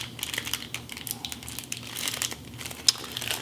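Thin plastic packaging for guitar strings being pulled and torn open, close-up crinkling and crunching in irregular bursts with one sharper snap near the end, no talking.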